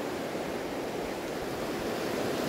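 Rushing flow of the Poudre River about 20 miles up the canyon in July, a steady, close broadband wash of water around someone wading, with no voices.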